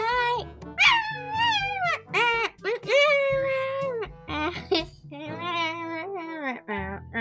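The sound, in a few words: girl imitating a cat meowing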